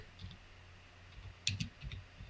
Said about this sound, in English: whoever's typing, could you mute your mic?